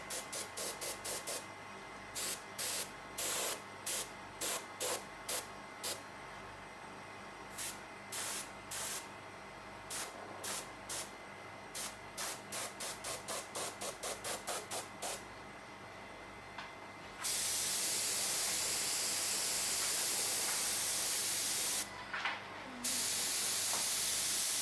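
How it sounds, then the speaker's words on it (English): An airbrush sprays acrylic paint in a long series of short, close hissing bursts, then gives one longer continuous spray and a final brief burst. "I think I'm going to get my airbrush to make a little small adjustments."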